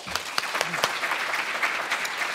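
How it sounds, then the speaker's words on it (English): Audience applause for conference panelists at a business industry summit, a steady burst of clapping from a seated crowd with a few sharper individual claps standing out. "Please join me in a warm round of applause for our panelists."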